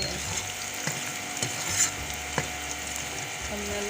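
Beef karahi frying in a pan, a steady sizzle with scattered clicks and scrapes of a utensil against the pan, close and continuous, no talking.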